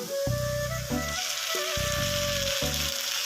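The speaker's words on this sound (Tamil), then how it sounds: "இஞ்சி பூண்டு நல்லா வதங்கி ஆயிடுச்சு" Ginger garlic paste with onions, fennel and pepper sautéing in a pan, a continuous close sizzle broken by rhythmic scraping and stirring strokes, with no talk.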